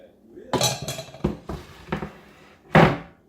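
A cutting board set over a pan of marshmallows and flipped: a quick series of clattering, knocking wooden and metal thuds, five or six distinct hits, ending in one heavier clunk, close by with a voice briefly in the background.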